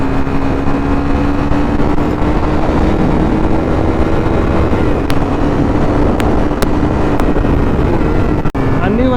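A KTM RC390 motorcycle being ridden at speed with high coolant temperature: a loud, steady engine drone with a faintly rising pitch, heavy wind rush, and a brief dip near the end.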